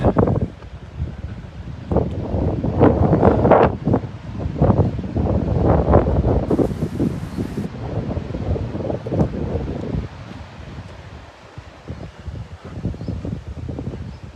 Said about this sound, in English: I like this wind.